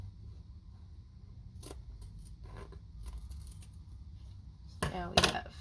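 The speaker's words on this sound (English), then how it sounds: "I'm going to take my scissors and cut it down to maybe 1/4 of an inch." Scissors trimming the seam allowance on a buckram hat: faint soft snips under a low background hum, ending in a sharper, louder burst of cutting near the close.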